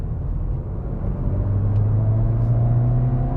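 A Hyundai i20N hot hatch with a six-speed manual, driven in sport mode, gives a steady, throaty engine drone that rises in pitch partway through as revs build, heard from inside the cabin with no talking.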